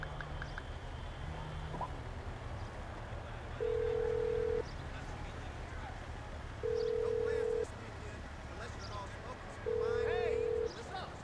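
An in-game phone rings in Grand Theft Auto 5 with three evenly spaced electronic ring tones, each lasting about a second, heard over background game noise and talking voices.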